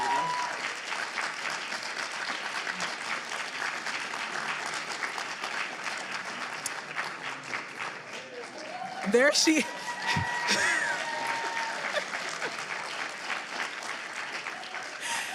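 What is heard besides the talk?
audience applause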